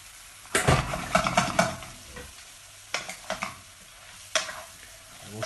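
Shrimp tossed into a pan of onions frying with paprika and spices, loud scraping stirs in bursts against a soft steady sizzle, with quieter pauses between strokes.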